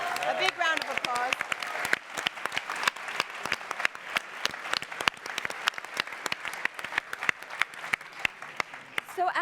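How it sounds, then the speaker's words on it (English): A large audience claps loudly and steadily for the winners at a startup competition event, a dense continuous applause with a voice briefly heard at the start. "A big round of applause."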